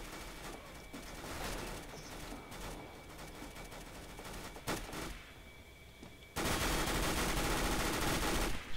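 Automatic gunfire rattles in a CS:GO match as shots come through a wall, with dense rapid bursts, a brief lull, then a loud sustained volley at close range.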